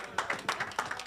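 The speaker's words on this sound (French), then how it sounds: "vous avez applaudi à la question" Audience applause in a hall during a Saturday gathering, several bursts of clapping over about a second, fairly close and moderately loud, with no voices over it.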